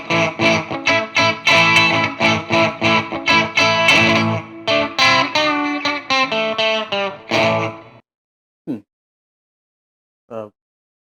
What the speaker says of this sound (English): here's what I've got when I actually throw the distortion pedal on the very first setting